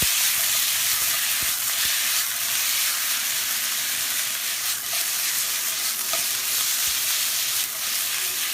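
Chicken pieces seasoned with paprika sizzle and fry in a hot pan while being stirred and flipped, a loud steady hiss with scattered scraping knocks of the utensil against the pan, close up and without talk.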